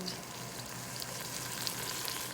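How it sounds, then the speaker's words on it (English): Steady crackling sizzle of beef frying in a hot pot for tacos, continuous and fairly close, with small pops scattered through it. "Listen, it's starting to sizzle."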